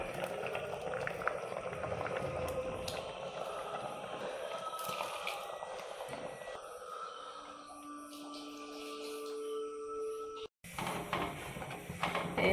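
A Kerala-style fish curry with ground coconut, pepper and turmeric bubbles softly in a pot, a faint continuous simmer with occasional small clinks and a brief break near the end.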